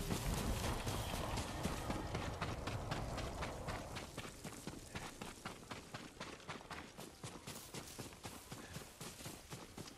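Horse hooves clip-clop steadily at a run and then a walk in Ghost of Tsushima, loud and close at first, then settling into a lighter, regular trotting rhythm with no talk over it.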